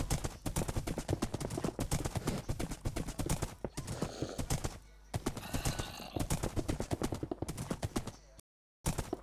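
Rapid, steady hoofbeats of a horse in Minecraft on Xbox clop continuously up close, with brief pauses and a short dropout near the end.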